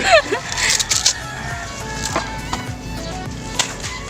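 Native chickens cluck and call in short bursts amid scattered knocks and faint background voices in a backyard setting, with a brief rising squawk at the start.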